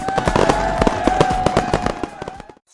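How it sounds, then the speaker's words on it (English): Cartoon fireworks go off in a rapid crackling volley of pops and bangs under a sustained whistling tone, loud and close, ending abruptly in silence. "Let's celebrate with those fireworks!"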